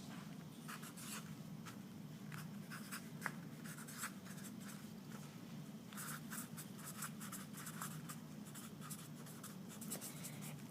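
Pen or pencil scratches on paper while math homework is copied out, giving soft, quiet, continuous strokes with small taps and pauses, heard near and alone.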